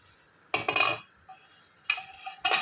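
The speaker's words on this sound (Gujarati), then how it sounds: "તો ઢાંકણ હટાવી અને જોઈ લઈશું આપણે।" Metal lid lifted off a steamer pot of khaman dhokla: two bursts of clanking metal clatter separated by a faint ring, then a final clink, close and clear with no talk.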